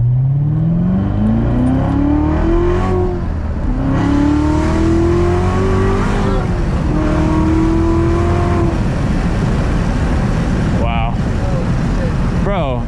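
Manual Chevrolet Corvette C7 Z06 accelerating hard at night from the cabin, its engine note rising through repeated pulls with gear changes between them. The engine is loud and close throughout, with brief talk from the occupants near the end.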